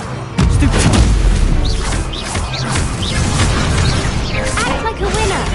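A Confringo blasting spell erupts in Hogwarts Legacy with a loud, booming burst, followed by continuous crackling combat noise and whooshing spell effects.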